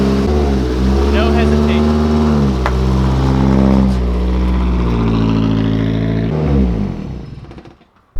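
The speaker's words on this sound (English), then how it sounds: "to find out if the Corolla starts up." A Toyota Corolla AE86 engine starts and revs, a deep, close rumble with strong low harmonics that climbs and settles across several revs before cutting off, with someone speaking briefly over it.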